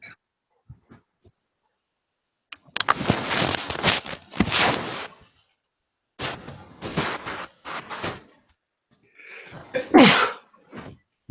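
A person sneezes several times in a quiet room, with loud, sharp bursts separated by pauses and a final harsher sneeze near the end.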